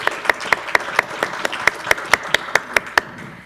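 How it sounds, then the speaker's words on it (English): Small meetup audience applauding panelists, a sparse run of about a dozen distinct, fairly close hand claps at a steady, unhurried rhythm, with no voices over them. "They deserve a round of applause."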